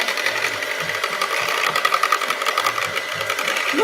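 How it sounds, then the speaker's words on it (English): Rapid, rhythmic whisking of French toast batter, a steady mechanical-sounding whir heard close and fairly loud, with no speech. "I just want a good whisking shot"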